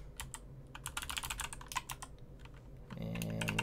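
Rapid clicking of keys on a computer keyboard during programming, a close, irregular burst of keystrokes followed by a faint hum.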